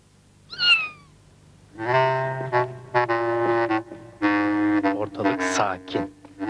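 A cartoon cat gives a short high meow near the start, followed by several stretches of animated character voices speaking.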